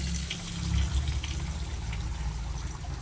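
Water is poured into a pot of mung beans sautéed in pork fat, a close, steady gushing splash running for a few seconds without any talk.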